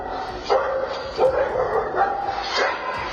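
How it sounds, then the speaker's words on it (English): Two pet dogs barking repeatedly in short, sharp bursts, interspersed with yips and whimpers, moderately distant outdoors near a rooftop and border wall. "two pet dogs chasing and barking at him"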